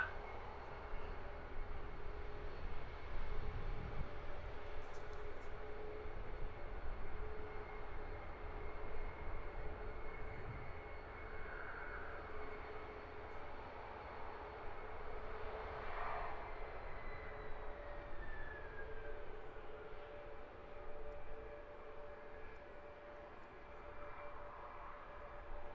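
A Ryanair Boeing 737 Max 8 at Luton Airport produces a faint, distant engine rumble and soft whine that swells slightly and lingers at low level, with no speech.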